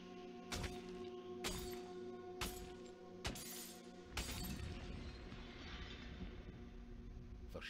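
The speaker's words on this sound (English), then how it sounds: "The shattering of the crystal caused tremors in the underworld." A crystal shatters in the video game Has-Been Heroes: four sharp, evenly spaced strikes lead into a final loud crash with a brief scatter of breaking debris, over a low droning background.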